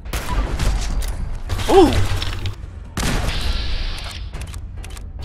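Fallout 4 grenade launcher blasts erupt as booming, rumbling bursts mixed with mechanical clanks, loud and layered through the game mix, with a brief excited exclamation from a player.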